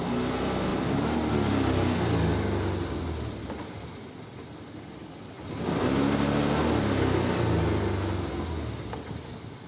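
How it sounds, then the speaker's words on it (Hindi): A Hero Destini 125 scooter with a pickup fault runs at part throttle, a steady close engine drone that eases down in the middle, then swells back up to a stronger hum. "देखो बाइक स्टार्ट है, हाफ रेस पे बाइक चलेगी, फुल रेस देंगे तो बंद हो जाएगी।"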